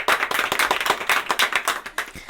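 An audience at a school science quiz claps together in a quick, rhythmic burst of crisp, close hand claps that lasts a couple of seconds.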